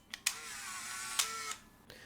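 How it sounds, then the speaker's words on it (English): Motorized film advance on an F35M Mark II camera: sharp shutter clicks followed by a sustained low whirring wind lasting about a second, then a final faint click, close and moderately quiet. "mostly what you're hearing is the film advance"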